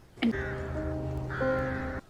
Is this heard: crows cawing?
yes